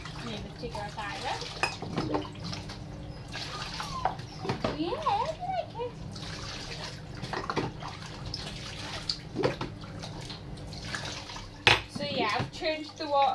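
Water splashes and sloshes in a bath while a Vizsla puppy is washed, irregular close splashes and knocks, with a person talking over them and high squeaky voice sounds throughout.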